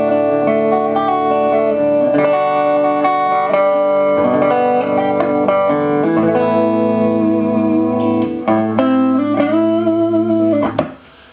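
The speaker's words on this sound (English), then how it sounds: "And it sounds like this, clean." A Musima single-coil electric guitar plays clean, undistorted chords and single notes, bright and close, ringing continuously before stopping abruptly at the end.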